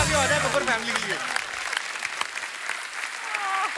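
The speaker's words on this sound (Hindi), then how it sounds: "जोरदार तालियां हो जाए बब्बर फैमिली के लिए।" Studio audience at a comedy show breaks into dense, loud applause that fades to scattered clapping, with voices talking over the start.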